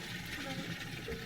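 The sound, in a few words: water filling a tub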